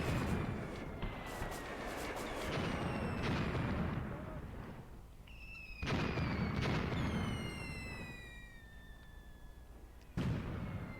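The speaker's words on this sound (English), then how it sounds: "I think my mortars are gunning for the tank." Mortar fire in the WWII-style tactics game Graviteam Tactics, heavy booming launches and blasts with whistling incoming rounds, several sharp explosions spaced seconds apart over a continuous battlefield rumble, fairly quiet and distant.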